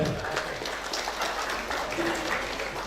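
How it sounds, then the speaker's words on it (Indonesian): Dense, continuous clapping from a crowd at a university graduation ceremony, a steady wash of applause with murmuring voices underneath. "Tepuk tangan buat kaprodi kita."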